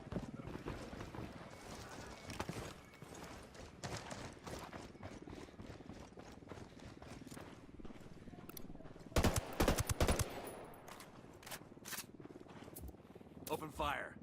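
Gunfire in Ghost Recon Wildlands rings out as a dense burst of shots in the middle of the clip, with game sounds and radio-style voices talking throughout.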